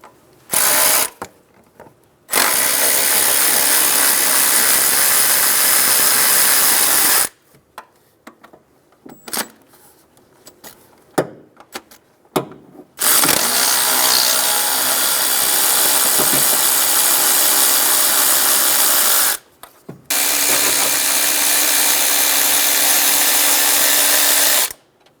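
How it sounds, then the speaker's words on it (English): Ratcheting 12mm socket turns out the throttle body bolts on a 2007-2011 Toyota Camry 2.4L four-cylinder, with loud sustained clicking bursts separated by pauses and brief handling noises, no talking. "Using a 12mm socket, remove the 4 bolts from the throttle body."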